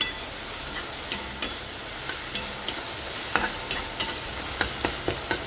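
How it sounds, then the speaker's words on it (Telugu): Turmeric is stirred into an onion-tomato bean curry frying in a pan, giving a constant low sizzle broken by regular light clicks and scrapes of the spoon. "ఇప్పుడు ఇందులో కొంచెం పసుపు కూడా వేసుకుని కలుపుకుందామండి"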